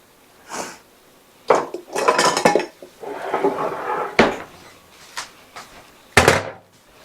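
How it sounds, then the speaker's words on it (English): Kitchen utensils and metal cutlery clatter and clank as someone rummages for a cookie scoop, with scattered sharp clinks and bursts of rattling at irregular intervals, close by and with no speech. "Let's see if I can get my cookie scoop."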